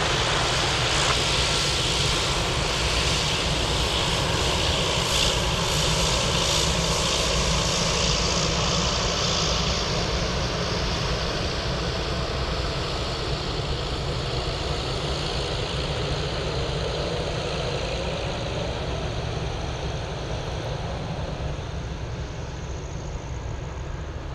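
An MD-11 airliner takes off at Anchorage Airport, its jet engines holding a loud, continuous roar for the whole stretch while the high-pitched hiss slowly fades.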